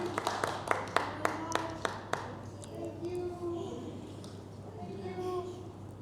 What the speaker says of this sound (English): Give it applause.